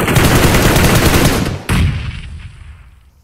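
Gunfire and a grenade blast in the PUBG Mobile shooter game, with loud rapid automatic shots followed by a sharp explosion that fades into a long decaying rumble, no talking.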